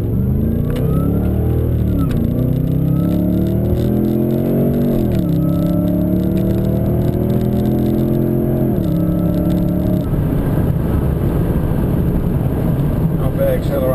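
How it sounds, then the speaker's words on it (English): A supercharged Holden VF Calais, late model, accelerating hard from first gear in manual mode, its engine rising in pitch through several loud sweeping revs with a brief dip at each upshift, close and continuous. "Not bad acceleration for a late model Calais."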